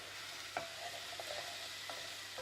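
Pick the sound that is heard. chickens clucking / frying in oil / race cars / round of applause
frying in oil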